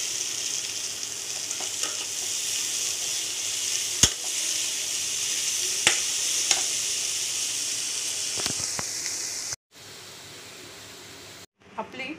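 Green val bean pods (hyacinth beans) sizzle steadily in a pan while being stirred, with a few sharp scrapes of the spoon, then the frying drops away to near silence briefly before resuming.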